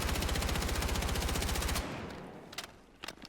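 Rapid automatic gunfire from the Battlefield 6 video game, a loud steady burst of rhythmic shots for nearly two seconds, then a few scattered single shots and echoes trailing off.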